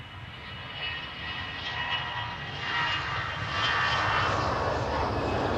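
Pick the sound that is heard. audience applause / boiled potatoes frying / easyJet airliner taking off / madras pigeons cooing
easyJet airliner taking off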